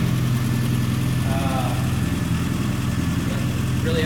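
Fuel-injected engine swapped into a 1970 Austin Mini idling steadily nearby, a low even throb with a regular pulse, with brief speech over it.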